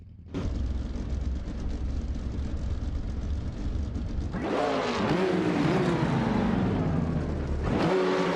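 A pack of AI-driven race cars, including a Porsche, roars off the line at Goldenport in a racing video game, engine drone building then surging louder with rising revs as cars accelerate, close and alone without talk.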